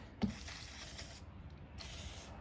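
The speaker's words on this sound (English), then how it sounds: "Just gonna kind of spray a bit of lubricant." A steady hiss of aerosol lubricant spray starts after a brief knock, runs for about a second, pauses, then sprays again; close and moderately quiet, on a motorized bike engine.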